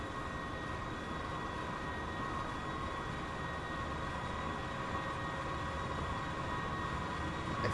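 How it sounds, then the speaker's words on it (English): A Russian diesel train runs in the Transport Fever game, giving a steady broadband engine rumble and rolling noise with faint tonal hum, constant and moderately quiet. A single spoken word briefly cuts in. "Russian train coming up the inside"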